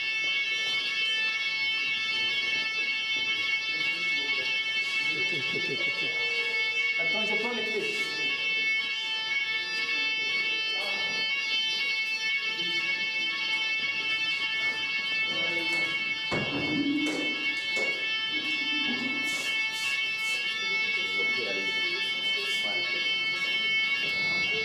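A bank building's fire alarm in Brazzaville sounds during an evacuation drill. Several steady tones ring without a break for the whole stretch, while people talk and move nearby.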